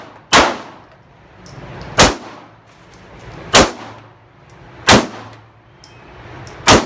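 Five gunshots, fired one at a time about every 1.5 seconds, each ring out sharply off a steel target. Each crack is followed by a decaying metallic ring, and the range is quiet in between with no talk.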